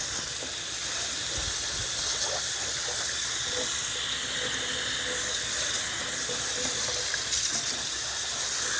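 Running water rinses soap from the filter of a GE Profile washer-dryer combo, a steady close hissing spray that continues unbroken throughout.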